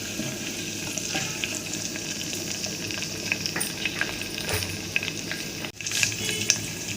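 Whole spices, cumin and green chilies frying in hot oil in a pan, a dense steady crackling sizzle with occasional stirring scrapes and a brief clatter near the end, close and continuous.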